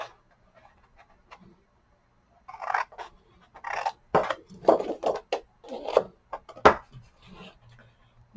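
Scissors cut card along score lines for handmade Christmas candy holders. Quiet at first, then a close run of crisp snips and short crunching cuts comes in irregular bursts, with faint handling noise between them.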